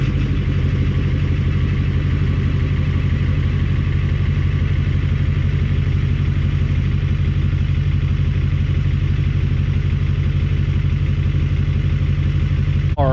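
A 300,000-mile 6.4L Powerstroke diesel pickup, started cold at 19 degrees with its block heater plugged in, idles loud and close with a constant rough, clattering rumble throughout.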